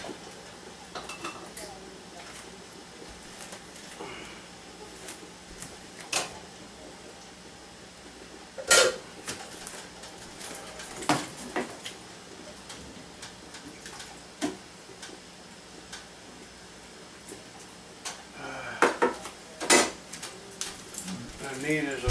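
Metal clinks and taps from a canning funnel being handled while a canner is loaded with warm processed potatoes, light scattered knocks spread over a quiet kitchen background with a few sharper clinks.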